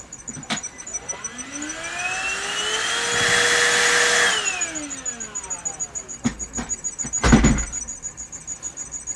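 A power drill bores pilot holes for a DIY LiFePO4 battery build: the motor winds up to a steady whine, holds for a couple of seconds, then spins down, followed by a few sharp knocks and a louder clunk nearby.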